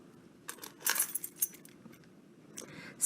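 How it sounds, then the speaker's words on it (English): A bunch of keys is picked up and jangled close by, with bright metallic clinks bunched at the start and a few more rattles toward the end, no talking over it. "Someone left their keys here."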